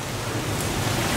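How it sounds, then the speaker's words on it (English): A heavy rain downpour pours steadily onto a street in Rome, a dense, loud, unbroken hiss of falling water with no speech. "it looks like a sheet of rain"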